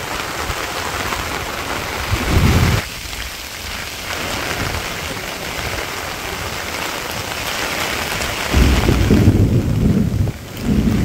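Heavy rain pours steadily on surfaces in a Bangladeshi village, a dense continuous wash with louder bursts of low rumbling thunder near the start and end.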